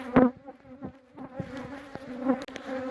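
Honeybees buzz at an opened beehive during a colony split check, a close, loud droning hum with individual bees flying past the microphone and swelling in and out.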